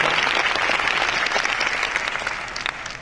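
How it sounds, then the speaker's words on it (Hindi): Loud, dense applause from an audience at a network marketing gathering in a Patna hall, steady and sustained for the full few seconds with no speech over it. "अभी तक की जोरदार ताली दोस्तों"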